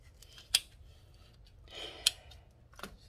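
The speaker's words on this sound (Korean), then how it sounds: "잘라 볼게요. 어차피 다시 심을 때는 자를 거니까." Scissors snip through the roots of a Cattleya walkeriana orchid being divided, giving three sharp, close cuts spread across a few seconds, with quiet rustling in between.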